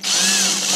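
A power tool whirs briefly as it backs Phillips screws out of a dryer during a restoration. It gives one short, rising-and-falling whine lasting under a second, with no talking.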